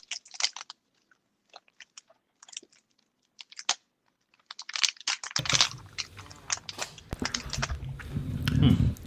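Close crunchy snack bites and chewing, starting as scattered sharp crackles in near silence, then growing denser with rustling and mouth noise toward the end.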